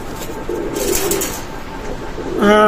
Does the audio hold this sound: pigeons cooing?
yes